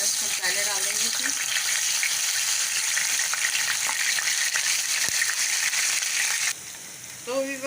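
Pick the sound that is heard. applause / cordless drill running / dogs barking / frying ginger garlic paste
frying ginger garlic paste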